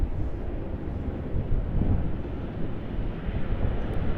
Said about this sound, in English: Tucking the gear up and away it goes in time for a Dash 8 landing.